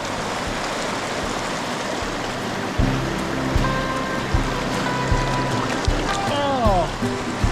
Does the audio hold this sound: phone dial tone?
no